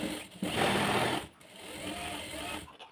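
A sewing machine stitching a blouse runs in a close, fast whirring burst, stops briefly, then resumes at a slightly softer, steadier pace.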